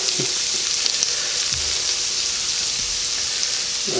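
Garlic fries in a hot pan for pork chops, a dense, loud, unbroken sizzle close to the microphone, with a few faint clinks underneath.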